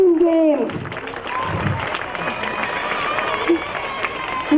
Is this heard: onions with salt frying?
no